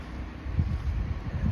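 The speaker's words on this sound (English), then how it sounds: "It was extremely windy" Strong gusty wind in a rainstorm roars steadily and loud across the microphone, a low, rumbling buffeting with no voices heard.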